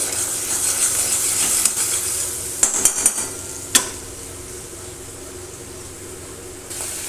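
A paste of ginger, onion and garlic with turmeric is stir-fried in oil for a Bata fish curry, a low sizzling hiss punctuated by a few sharp metallic clinks and scrapes of the spatula against the pan.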